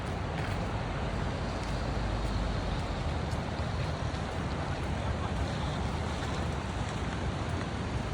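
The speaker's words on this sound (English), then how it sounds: "Look at the waves." Steady, dense roar of ocean surf on a Sydney beach on a drizzly day, a continuous wash of waves and wind noise with no clear breaks.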